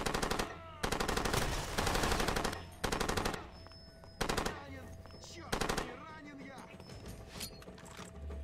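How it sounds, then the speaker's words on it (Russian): Bursts of automatic machine-gun fire from an American machine gun in Far Cry 2, several loud rapid volleys separated by short pauses, with game ambience and speech between them. "Надо понять, что это за пулемет. Это американский пулемет конченый, который через 2 минуты начинает плохо работать."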